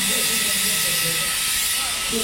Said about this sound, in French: Le public a été impressionné par ce véhicule à vapeur qui a fait son entrée au château très bruyamment.